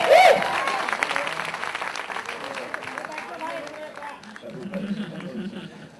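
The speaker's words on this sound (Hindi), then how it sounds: "एक बार जोरदार तालियां होनी चाहिए।" A crowd claps and cheers for Shah Rukh Khan at a film trailer launch event. The applause is loudest at the start and gradually thins, with voices and crowd chatter mixed in underneath.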